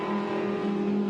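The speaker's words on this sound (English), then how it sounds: "That Lambo sounded good" The engine of a Lamborghini race car at the Total 24 Hours of Spa 2020 holds a loud, steady, droning note throughout, with no voices.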